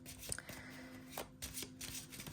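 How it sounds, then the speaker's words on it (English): A small deck of cards being shuffled by hand, with several quick riffling bursts and soft card slaps close up against a steady low hum. "I want to take some more cards from this little deck here."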